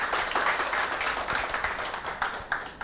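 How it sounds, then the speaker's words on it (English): Audience applause at a business talk on blockchain as the next speaker is welcomed on stage, a dense, steady patter of many hands clapping for about three seconds, moderately loud with no talk over it. "Can we have a round of applause,"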